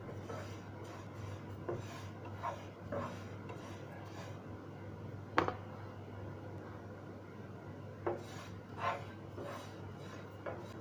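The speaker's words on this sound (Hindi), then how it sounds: "इन्हें लगातार चलाते हुए फ्राई करें, नहीं तो ये तिल जल जाएंगे।" Sesame seeds roast on a low flame in a pan for quick laddoos while being stirred constantly, producing soft, irregular scraping and rustling strokes over a quiet background hum.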